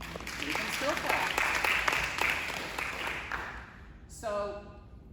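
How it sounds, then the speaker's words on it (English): An audience at an employee townhall meeting gives a burst of applause lasting about four seconds, a dense spread of clapping from a roomful of people. A voice talks over it, then the applause cuts off and speech follows. "You can still clap."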